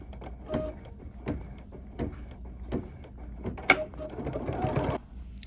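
An embroidery machine stitches a placement line for a hot pink bunny appliqué in short repeated bursts of rapid needle chatter, separated by brief pauses, with a longer busier run near the end.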